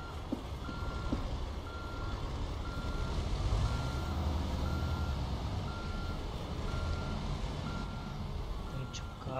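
Repeated reversing beeps from a truck in Euro Truck Simulator 2, a steady evenly spaced series over a continuous low engine rumble, with some background speech-like noise.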